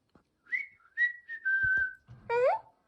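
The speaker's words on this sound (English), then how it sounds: "Yeah, whistle for me." A robotic AI companion toy gives a run of short melodic whistles, rising and falling tones in several separate bursts, close and clear with no talking.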